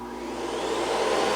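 A breathable air supply system for a DIY paint booth runs behind a partition, giving a steady, even whoosh like a vacuum cleaner that holds at one level throughout.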